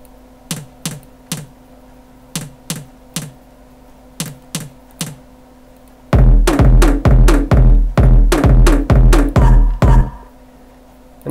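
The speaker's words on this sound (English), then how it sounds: "It's called spinning tom." Sharp percussive hits repeat in a quick rhythm, first lighter and sparse, then louder with booming low thuds, like a spinning tom sample played alone.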